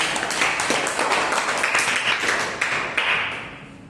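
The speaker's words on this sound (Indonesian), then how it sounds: "Berikan tepuk tangan bagi Tuhan." A church congregation applauds during a sermon, a dense, sustained wash of many hands clapping that fills the room evenly before slowly easing off.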